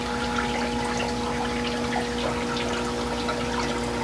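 Garden hose running water into a bathtub, a steady close rushing flow with a constant hum underneath and no pauses.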